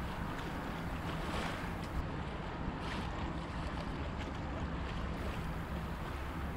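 Steady wind and water rush past a sailboat crossing the wide, open waters of Biscayne Bay, a constant broadband whoosh with no talking.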